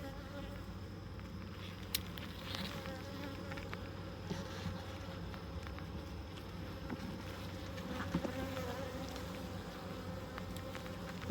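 Honey bees buzz around an open hive during a June inspection, a steady dense drone of many insects close by, with brief louder passes of individual bees.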